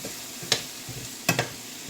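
Vegetables cook in butter in a pan with a soft sizzle, punctuated by a few sharp utensil scrapes and stirs.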